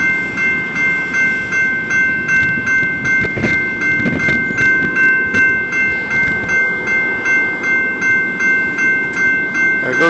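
A train rumbles past close by a railroad crossing with a steady rhythmic clatter of wheels, while a sustained ringing tone from the crossing gate hangs over the noise.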